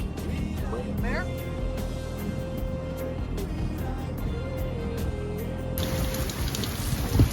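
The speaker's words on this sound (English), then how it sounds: "you might even be able to see the rain being blown sideways" Steady wind-blown rain pouring sideways over an anchored boat in St. Lucia, a broad wash of noise, gusty and continuous, while a voice speaks over it throughout.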